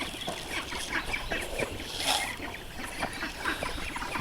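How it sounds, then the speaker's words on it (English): Domestic ducks being let out of their night pen in the morning, with a busy stream of close quacking and chattering from the flock and no talking. "now it's time to release the ducks"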